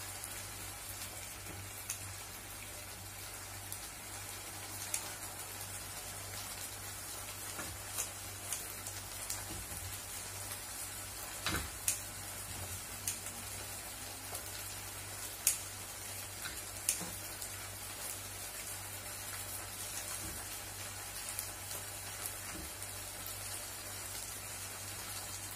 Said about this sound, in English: Fry this together for like 5 minutes.